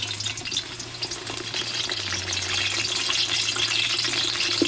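Eggplant slices fry in hot oil in a pan, giving a steady, close sizzle that grows slightly louder after the first couple of seconds, with a faint low hum underneath.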